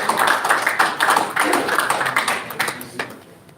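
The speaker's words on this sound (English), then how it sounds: "we would want everyone to give him a round of applause" Applause from an audience at a community evening event, a burst of many hands clapping fairly close that thins out and fades toward the end.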